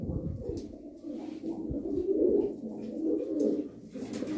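Turkish tumbler pigeons coo in soft, low, repeated rolling calls close by, with faint rustling and a few light clicks around them.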